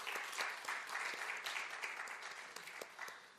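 A church congregation at a Wednesday worship service claps together in thanks, a steady, moderately loud wash of applause filling the room, with no voices on top.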